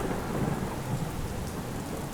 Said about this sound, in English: It has 2 different lightning modes that simulate a lightning strike.